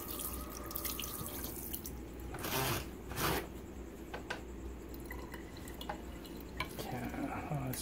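Pieces of nenue (rudderfish) rinsed under a running kitchen tap, steady close water flow with splashes and drips, a few louder gushes as the fish is moved under the stream.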